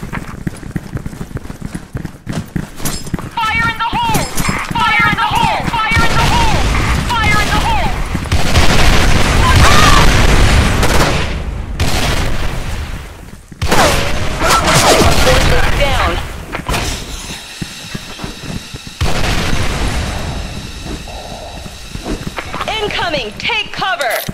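Explosions and bursts of gunfire from the Special Force 2 video game during a clan war, with rapid shots and booms layered over in-game voices and player talk throughout.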